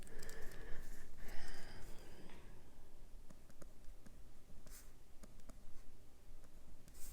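Pen writing by hand on a paper planner page, a soft steady scratching that comes through close and fairly quiet, with light taps and strokes spaced across the whole stretch and no one speaking over it.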